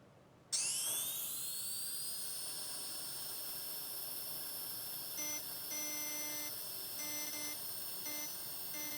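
High-pitched whining drill spinning up sharply and holding a steady tone in a medical VR training simulator with haptic feedback, with intermittent beeping tones layered on top near the end.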